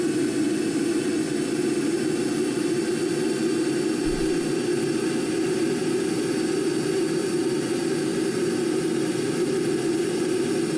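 A jet fighter in Kerbal Space Program rolls down the runway for takeoff, its engine giving a loud, steady roar that holds unbroken throughout with no voices.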